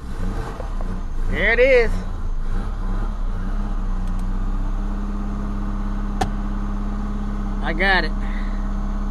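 An Eagle Premier car engine cold starting after sitting for two months with low compression, a steady low engine drone running throughout with short revving swells, while a person talks over it.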